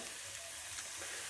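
Lamb chops sizzle in olive oil on a hot salt block, a steady faint crackling hiss that runs evenly throughout with no talk.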